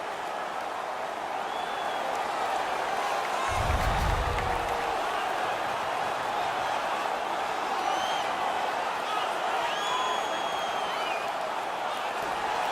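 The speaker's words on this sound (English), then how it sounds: "The crowd is ecstatic." A stadium crowd in an NHL 18 hockey game roars with sustained cheering and applause after an Edmonton Oilers player wins a fight against Toronto, a steady loud wash of noise throughout with a brief low swell partway.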